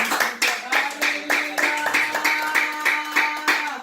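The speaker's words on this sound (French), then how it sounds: "Acclamons Maman" A church congregation claps along in a steady rhythmic beat, loud and close, with sustained singing or chanting voices underneath.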